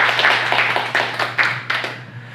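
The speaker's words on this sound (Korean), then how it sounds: "다 박수 한번 같이 한번 쳐주세요" A church congregation claps together in a short burst of applause, several sharp beats standing out over a steady patter and a low constant hum.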